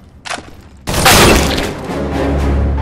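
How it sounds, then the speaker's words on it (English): An incendiary grenade shatters in Counter-Strike: Global Offensive, a sharp glassy break followed by a loud roaring burst of flames that keeps burning steadily and close, preceded by a faint short crackle. "Incendiary out."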